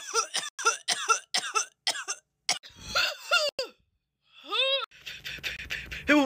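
A person coughs in a rapid series of harsh, close bursts, then pants and gasps with short breathy sounds between bouts, and more coughing closes out the sequence.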